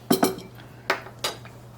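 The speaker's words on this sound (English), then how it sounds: "first step, we need to put some of our salt in the bottom of our jar" Two tablespoons of salt go into the bottom of a glass jar for preserved lemons, heard as a few quick clinks and taps of a spoon against glass followed by softer grainy scrapes, close and quiet with no voices.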